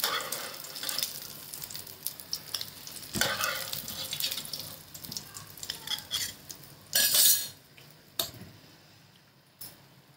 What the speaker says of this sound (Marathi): अशा प्रकारे सर्व शालो फ्राय करून घेते मी आता.